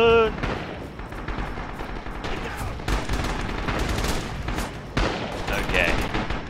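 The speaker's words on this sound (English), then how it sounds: "All the gunfire and stuff" Sustained bursts of battlefield gunfire and distant explosions in the video game Rising Storm roll on continuously, dense and loud, with sharp shots standing out.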